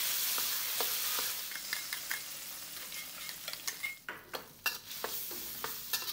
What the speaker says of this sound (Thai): ให้เราผัดกระเทียมกับเต้าเจี้ยวนะครับให้แตกกลิ่นหอมเลยครับ